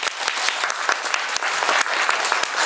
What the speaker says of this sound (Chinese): 拍手鼓掌